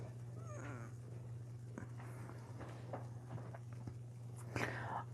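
A house cat gives a couple of short, faint meows, one near the start and one near the end, over a steady low hum in a quiet room.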